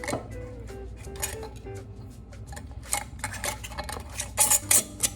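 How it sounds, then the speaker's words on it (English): A mason jar lid is set on a glass jar of sun tea, with clinks and light metallic taps of lid against glass, close and quiet, rising to a few sharper clatters near the end. "then you add your mason jar lid"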